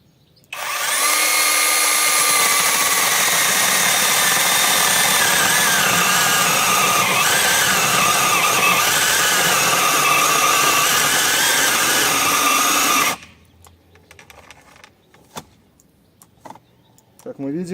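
Cordless two-handed Heimerdnger LB192 chainsaw with a 12-inch bar cutting a log, its loud steady whine running continuously for about twelve seconds before cutting out abruptly, followed by faint clatter and handling noise.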